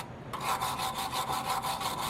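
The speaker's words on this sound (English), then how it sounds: "you might wanna get a metal brush and just" A metal brush scrubs a rusted bolt from a Nissan 350Z lower control arm in rapid back-and-forth rasping strokes. The scrubbing is close, steady and loud, with no talking.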